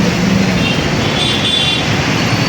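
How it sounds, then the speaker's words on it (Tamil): Heavy road traffic on Residency Road in Bangalore, a loud, steady roar of cars, buses and trucks with faint horn toots mixed in, continuous and close throughout. "டிராஃபிக் மட்டும் எப்பவும் குறையவே குறையாது இந்த ரோட்டில்"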